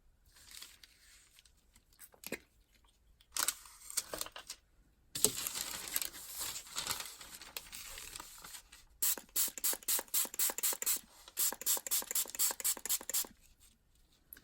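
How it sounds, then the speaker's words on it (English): Several quick hissing spray bursts, then a long run of rapid, evenly spaced spritzes of cold tea from a pump spray bottle onto paper, close and fairly loud with no talking. "So this is just some cold tea in a spray bottle."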